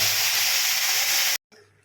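Dal hits hot oil tempered with dried red chillies, black mustard seeds, whole cumin and curry leaves, bursting into a loud, close hiss that lasts over a second and then cuts off abruptly.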